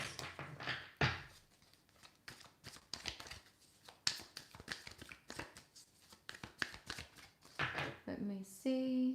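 Tarot cards shuffled by hand during a live reading, a run of quick papery riffles and slaps in irregular bursts, close up, with a voice talking briefly in between and a short tonal sound at the end.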